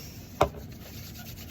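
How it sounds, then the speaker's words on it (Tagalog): A single sharp crunch from biting into a silvana, a Dumaguete dessert, heard close and brief, followed by a quiet, faintly rustling background. "Did you hear the crunch?"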